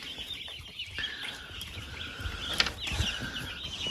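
Chickens in a barn, grown birds clucking and chirping at moderate distance over a low, busy background murmur, with a few sharper calls standing out.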